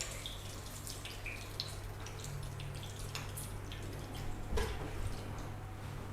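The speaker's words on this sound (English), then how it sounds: "that's standing water mostly just runs off when we lift it" Standing water runs off a coated car panel as it is lifted, producing a continuous soft trickle and patter of drips with a slightly louder splash toward the end.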